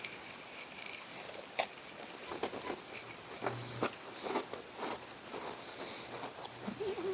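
A crunchy chocolate chunk cookie from an MRE is chewed close up, giving quiet, irregular crisp crunches and soft patter over a faint, hushed background.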